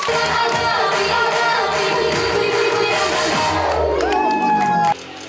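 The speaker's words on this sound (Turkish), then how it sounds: "arkadaşımızı kocaman alkışlıyoruz." A large crowd, many of them children, claps, cheers and whoops at a 23 Nisan (April 23) children's celebration in Seyhan, loud and continuous before cutting off sharply near the end.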